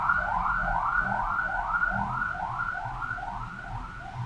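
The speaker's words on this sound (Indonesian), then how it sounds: "ada ambulan, sebentar kita iklan dulu" An ambulance siren wailing in a rapid repeating rise-and-fall pattern, moderately loud and steady over a low background rumble.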